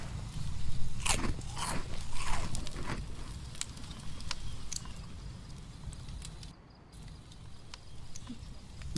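A character eats in the video game Project Zomboid, with repeated crunchy bites and chewing in uneven bursts, loud at first and then thinning out before a brief pause.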